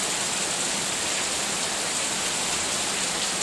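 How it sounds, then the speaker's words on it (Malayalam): Heavy summer downpour falling hard and steady, a dense unbroken hiss of rain loud and close throughout, with no voices. "നല്ല ശക്തമായിട്ടുള്ള മഴയാണ്"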